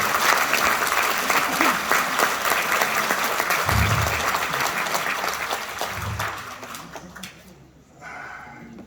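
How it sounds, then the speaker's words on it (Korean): Warm audience applause at a film-related event in Korea, dense clapping from a crowd that stays steady, then fades out near the end as a voice briefly comes in. "여러분 뜨거운 박수 부탁드립니다."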